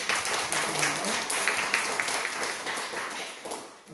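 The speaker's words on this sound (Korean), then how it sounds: "우리 김경수 권사님 축하하는 박수 한번 해주시죠" A church congregation at a Korean Parents' Sunday service claps in congratulation, a broad, steady patter of many hands that fades slightly toward the end, with no voices over it.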